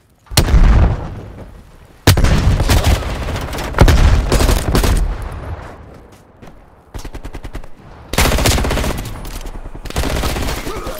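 A frag grenade detonation and other explosions in the Black Ops Cold War video game: several loud, sudden booming bursts with gunfire around them, each blast fading out before the next one hits.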